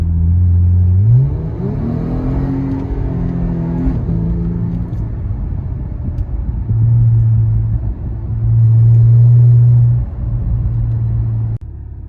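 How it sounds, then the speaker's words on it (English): A car engine fitted with a Pedal Commander throttle controller set to Sport Plus revs repeatedly, loud and close, with quick rises and falls in pitch, then settles into steady holds between blips, no voices. "There's like literally no delay in the vehicle at all when you hit the gas"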